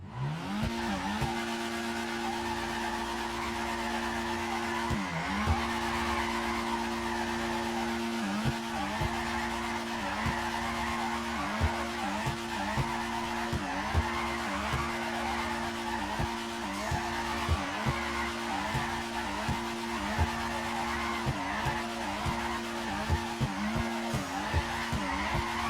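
Car drifting in GTA 5, with a continuous engine drone and repeated tire squeal and skidding as the throttle and handbrake hold the car on an S-shaped line, loud and steady throughout.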